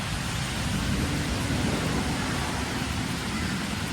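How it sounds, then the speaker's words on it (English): A dense, constant hiss of steady rain with no pauses, even in loudness from start to finish. "I wish the rain would let up, though."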